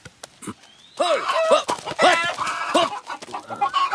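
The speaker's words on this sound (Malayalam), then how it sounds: "മുടിഞ്ഞ കോഴി." A hen clucks in quick repeated bursts, close and fairly loud, with a short squawk, as it raids a home garden in a Malayalam film scene.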